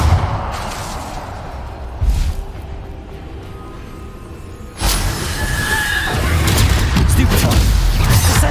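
Bombarda blasting spell explosions in the Hogwarts Legacy video game, a loud booming burst that erupts partway through over a constant rumbling game soundscape, with a voice talking earlier.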